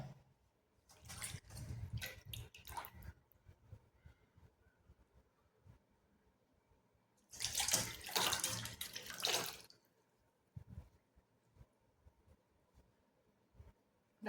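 Running water rinses a tamarind face pack off the face in two separate splashing bursts, close and moderately loud, with quiet dripping and handling between them and no talk.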